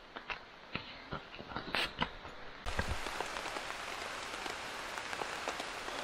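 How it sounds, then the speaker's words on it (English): Steady rain patters on a tarp at a Smoky Mountains campsite, with scattered close drops over a constant wash that grows denser and louder partway through. "Rain is steady, it's not getting worse or less"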